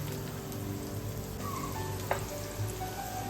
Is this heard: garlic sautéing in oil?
yes